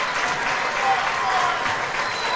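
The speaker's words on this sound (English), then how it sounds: "getting a nice round of applause from the Breckenridge fans" Steady, dense applause from fans in a high school girls' basketball gym as a player leaves the game, a continuous wash of clapping with a commentator talking over it.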